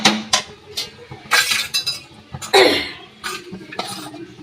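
Chowmein noodles tossed gently in a pan with chicken, giving light metallic clinks and scrapes of utensil against cookware in short irregular bursts, close by, with no talking.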